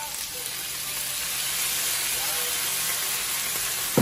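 Soy sauce hits a sizzling young corn and beef stir fry, giving a loud, steady hiss of frying and steam that holds for several seconds, with a brief clatter at the end.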